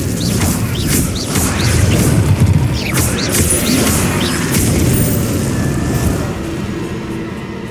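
A fire spell cast in the Hogwarts Legacy video game, a loud roaring burst with crackling, booming blasts that sustain for several seconds, game music and effects layered throughout.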